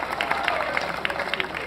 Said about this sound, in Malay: Berikan tepukan pada Presiden MBM